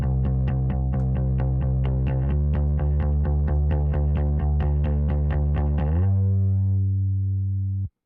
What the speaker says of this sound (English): just put a little bit of distortion on there